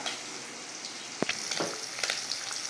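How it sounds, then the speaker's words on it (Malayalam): Prawns frying in a pan: a continuous, fairly quiet sizzle with a few sharp pops and clicks, heard alone and close. "അപ്പുറത്ത് മീൻ ചെമ്മീൻ ഫ്രൈ ആയിക്കൊണ്ടിരിക്കുന്നുണ്ട്"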